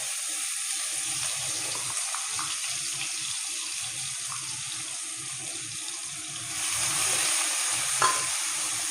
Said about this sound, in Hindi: प्याज की हमने भुनाई करनी है, हल्का सा इसको ब्राउन करना है।